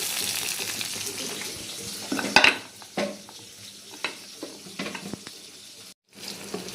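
Oil in a kadhai crackles as onion greens are cooked, with an uneven sizzle broken by scraping, stirring knocks and a few sharper spatters, close and moderately loud.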